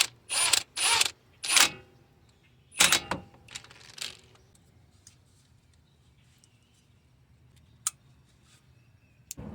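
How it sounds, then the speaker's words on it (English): An impact gun loosens a 12mm bolt on a Toyota Sienna in several short, loud rattling bursts over the first few seconds, followed by near quiet and a single sharp click. "I'm gonna do it very slow with this impact gun because this is too strong for this."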